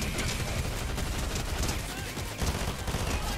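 Hyper SMG in Fortnite rattles off a steady stream of rapid gunshots, dense and loud from start to finish with other game sounds mixed in.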